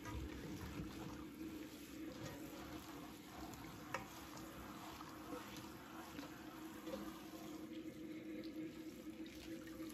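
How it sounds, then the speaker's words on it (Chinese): Spinach is rinsed under running tap water in a kitchen, giving a faint, steady splashing flow with a few soft knocks. "现在再将菠菜放到流水下冲洗干净。"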